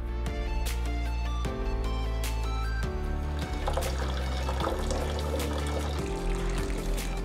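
Water pours steadily from an OCEAN Model H all-in-one filtered water tap, a continuous liquid rush with shifting tones as the flow fills a vessel, close and fairly loud throughout.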